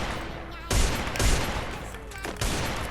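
Bursts of gunfire from the mobile battle-royale game Free Fire, fairly loud: three sharp volleys of rapid shots, each onset followed by a dense noisy rattle, with a faint voice in the background.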